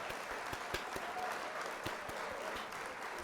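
A canned applause effect plays from a live stream, a faint, even patter of many clapping hands running unbroken throughout.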